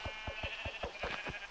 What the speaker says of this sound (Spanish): ¡Hola, oveja! Dame lana.